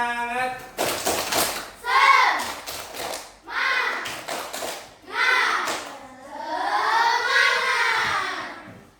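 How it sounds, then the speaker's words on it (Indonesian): Classroom children doing a rhythmic spirit clap, bursts of quick clapping alternating with children's voices chanting and calling out, loud and close. "Tepuk semangat."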